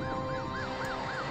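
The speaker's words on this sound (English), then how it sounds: "Follow the sirens." Emergency vehicle siren wailing in a fast repeating up-and-down cycle, several quick sweeps in succession, steady and moderately loud with no talking.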